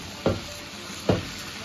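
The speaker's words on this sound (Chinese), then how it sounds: "炸一下头，再炸一下尾，煎至金黄色" Two sharp scraping knocks about a second apart as a whole fish is nudged around a wok, set against a steady hiss of hot oil frying it golden, close by with no talking.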